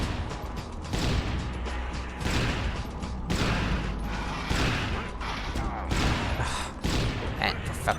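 Rapid, dense gunfire from a pistol in the video game Judge Dredd: Dredd vs. Death, with repeated loud shots in quick bursts and mechanical clatter filling the whole stretch.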